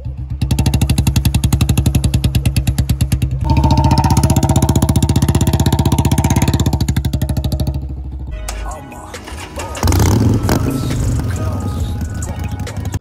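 A Bullet motorcycle engine runs loud and close with a steady rapid thump, revving and straining briefly on a steep off-road climb, then shifting to rougher, bumpier riding noise.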